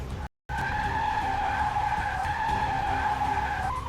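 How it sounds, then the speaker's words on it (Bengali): A cartoon-style car skid as a car loses control, a loud sustained tire screech holding a steady squealing pitch for several seconds after a brief gap of silence. "ও নো, গাড়িটা ডিসব্যালেন্স হয়ে গেছে, আমি তো কিছুতেই কন্ট্রোল করতে পারছি না"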